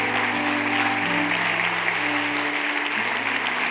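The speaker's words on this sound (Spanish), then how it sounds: "Denle un aplauso fuerte al Señor." A church congregation claps in praise, a thick and continuous wash of applause with sustained musical tones humming underneath throughout.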